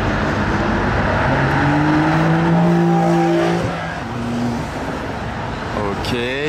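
At a Gumball 3000 event in France, a sports car accelerates hard nearby with a loud, rising engine roar through several upshifts, among crowd noise and other traffic.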